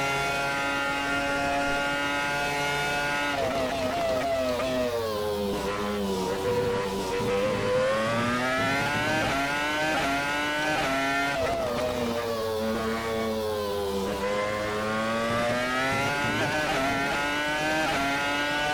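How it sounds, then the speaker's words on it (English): A Renault R25 race car in a racing sim roars at sustained high revs, its engine bouncing off the rev limiter over bumps; a loud, close, wavering whine rises and dips repeatedly with no talking. "Engine bouncing off the rev limiter over the bumps."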